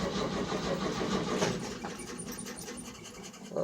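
Old Chevrolet pickup truck engine on a cold start with choke pulled: a cranking, rough mid-pitched engine roar running steadily at close range, with no voices.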